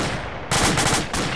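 Rapid bursts of gunfire crack loudly and close together from the military video game ArmA 2 with the ACE mod, a short volley with no talking.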